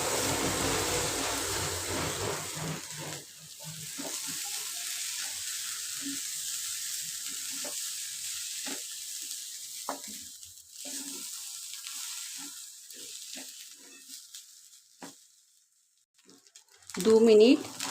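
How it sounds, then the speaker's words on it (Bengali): Rice frying with spices in a pan for a rice, potato and egg pulao: an initial sizzle that fades to quiet, scattered stirring clicks and taps, with a louder burst of sound at the end. "ঝরঝরে চালগুলো অ্যাড করে নিয়ে মশলার সাথে ভালো করে কষিয়ে নেব"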